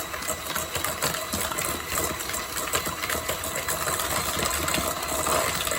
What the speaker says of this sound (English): cream this butter and sugar until fluffy